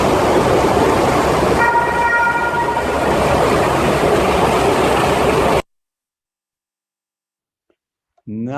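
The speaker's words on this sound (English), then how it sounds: "And this was the train ride going up." A train climbing uphill through a tunnel gives a loud, steady rumbling roar for about five and a half seconds, with a brief tonal whine partway through, then cuts to silence before a short voice at the end.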